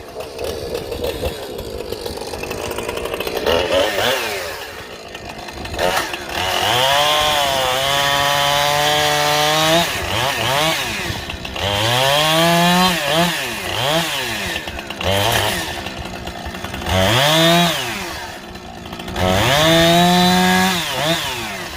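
A chainsaw cuts through big logs being split to fit on a sawmill, the engine revving up and bogging down in repeated loud bursts with rising and falling pitch, close by and without speech.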